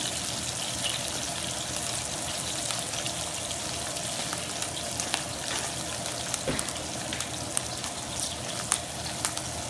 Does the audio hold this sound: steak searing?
yes